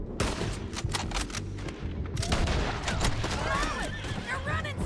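Gunfire rings out in the Red Dead Redemption 2 video game as repeated sharp shots and bursts, with a horse's whinny and a voice in the scene among the loud, dense, continuous action.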